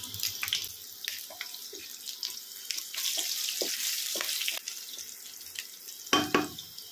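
Nigella seeds, dried red chillies and slit green chillies tempering in hot oil, a close crackling sizzle with scattered pops and a sharper burst near the end.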